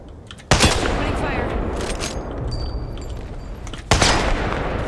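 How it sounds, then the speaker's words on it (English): Gunfire in the video game Apex Legends: a continuous loud roar of shooting and battle noise, with sharp, heavy blasts near the start and again toward the end, all close and dense. "Opening fire."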